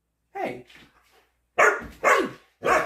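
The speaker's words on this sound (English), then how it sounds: "and I apologize for the barking." A goldendoodle gives several loud, close barks in a quick series, with a softer whine before them, while a person briefly speaks to it.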